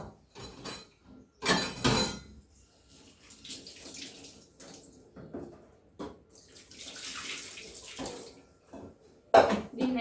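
Green chillies being washed in water, with intermittent close splashes and swishing in a bowl or sink, separated by quiet gaps and a few faint clinks.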